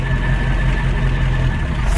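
An old farm truck engine idles with a steady, loud low rumble and a faint mechanical whine, close up and with no talk over it.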